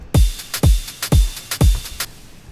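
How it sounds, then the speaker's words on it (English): A ride cymbal loop shimmers with bright, ringing strokes over deep booming kick hits landing on a steady pulse, loud and upfront, with a thin sustained high tone running beneath. "this is a ride"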